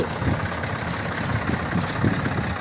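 A tractor engine idles steadily with a low, even rumble and slight vibration while a roll of barbed wire is unreeled for village fencing, close and continuous with no voices.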